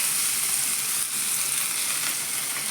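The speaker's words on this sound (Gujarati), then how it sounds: "આપણે લસણ મરચી અને આદુની પેસ્ટ નાખી નાખીને વઘાર કરીશું" Garlic, chili and ginger paste with a pinch of asafoetida and turmeric sizzles in hot oil, a tempering for Surati gotalo. A steady, close, loud frying hiss runs unbroken throughout with no voices.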